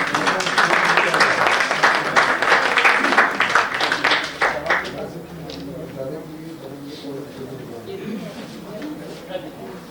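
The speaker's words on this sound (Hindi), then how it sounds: "तालियां बजाएं आप लोग।" An audience at an All India Mushaira in a mayor's hall claps in a loud, dense burst of applause that fades out after a few seconds, with a voice talking over it.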